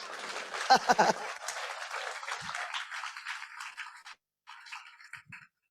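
A church congregation applauds during a Sunday worship service in Sarcelles, a dense wash of clapping and voices lasting about four seconds before breaking off, followed by a short, quieter trailing burst.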